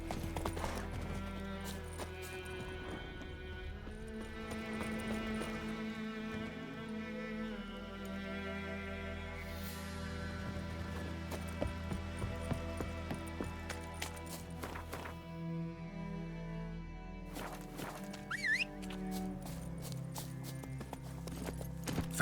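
Steady clip-clop of a horse's hooves, Roach in The Witcher 3, moving at pace over a continuous bed of game music and ambience, with no voices.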